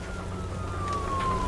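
A police car siren wails in the detective video game Nobody Wants To Die, one long tone sliding slowly downward, moderately distant over a low rumble.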